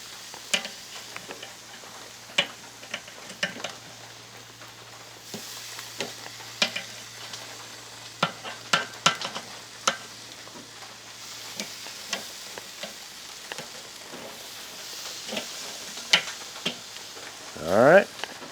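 Marinated ribeye steaks sizzle steadily in a pan just after being flipped, a constant frying hiss scattered with small pops and ticks, ending with a brief louder scrape.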